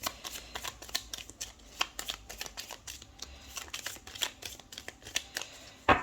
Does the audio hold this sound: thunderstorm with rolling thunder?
no